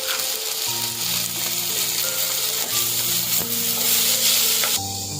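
Vigorous frying of chopped tomatoes with onions in a pan, with crackling sizzle and the scrape of stirring, close and continuous, growing slightly louder toward the end.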